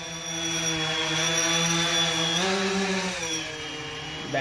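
A home-built drone flies close by, its motors giving a loud, steady, high-pitched whine. The pitch rises and falls as it manoeuvres, with no talk over it.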